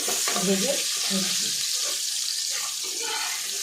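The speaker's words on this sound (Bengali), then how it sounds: "অল্প হলুদ আর অল্প নুন দিয়ে ভেজে নেব।" Potatoes sizzle steadily in hot oil with turmeric and salt, a continuous bright frying hiss close by, with a faint voice murmuring underneath.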